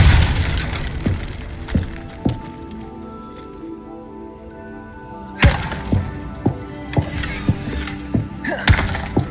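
Depulso spell blasts in Hogwarts Legacy, a sharp thumping burst followed by a rapid series of punchy impacts and pops, loud and close.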